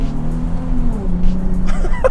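Nissan 370Z engine heard from inside the cabin with a window rolled down while driving through tunnel-like passages, a steady low drone with a pitch that drops midway, loud and continuous.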